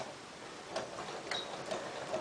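A sewing machine runs a quick back tack on a Peter Pan collar, giving faint, soft ticking stitches in a few short clusters over low room hiss.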